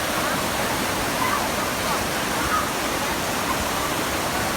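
Rushing water pours steadily through a shallow, partly dried-out stream at Nong Khon Saen, a constant broadband splash with no breaks, loud and close throughout.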